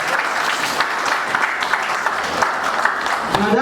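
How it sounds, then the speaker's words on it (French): Wedding guests applauding the head of the family, dense close clapping with a few sharper individual claps poking through, steady throughout with voices mixed underneath. "Applaudissez pour le chef de famille."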